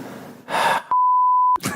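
A single steady electronic censor bleep about two-thirds of a second long cuts over a spoken word, set between short breaths and murmurs from a nearby voice.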